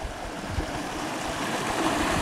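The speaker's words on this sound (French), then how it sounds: "Sinon là, un beau petit ruisseau." A small stream flows in a steady, broadband rush of water, close and continuous, with no voices.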